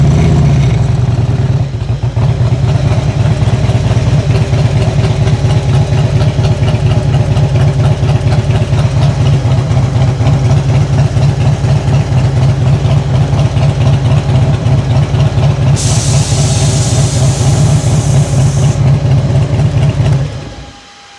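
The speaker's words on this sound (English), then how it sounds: "Put it in neutral, I'll start the bike back up." A Harley-Davidson Ultra Classic motorcycle engine fitted with a reverse gear starts and idles loudly and close, a steady low rumble for about twenty seconds before cutting off.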